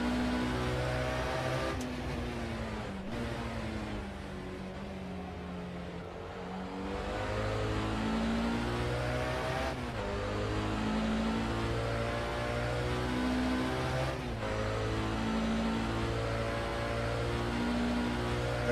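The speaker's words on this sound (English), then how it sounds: "There goes Lars. Lola, I think" Historic Lola sports racing car in the Assetto Corsa sim racing game, its engine note rising and falling steadily as it draws alongside and passes at a historic sportscar race, with continuous engine drone and shifting tones throughout.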